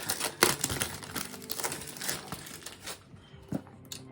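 Packaging of a ZD Toys Iron Man Mark 3 toy box being carefully cut open, with crinkling plastic, soft tearing and small scratchy scrapes, close and irregular, fading near the end.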